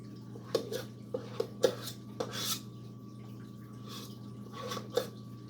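A utensil scooping Cheddar Bay biscuit dough at home for Red Lobster–style biscuits, giving a series of sharp, close clinks and taps against a bowl at an uneven pace over a low background hum.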